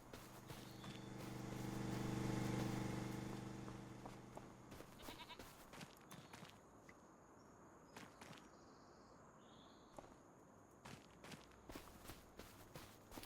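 Sheep and goats bleat on a farm in Farming Simulator 25, a sustained bleat rising early, then footsteps crunching steadily along with faint animal calls in the background.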